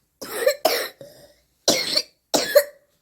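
A child coughs in several harsh bursts, two quick coughs, a weaker one, then two more after a pause, close and fairly loud with no talking.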